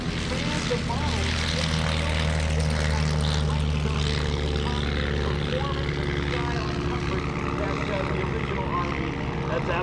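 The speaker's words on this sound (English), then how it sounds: "the aircraft departing and about to make a right turn now off show center is an RV9" A Van's RV-9 propeller airplane departs at the EAA AirVenture air show in Oshkosh, its engine a loud, steady droning roar throughout while a commentator talks over it.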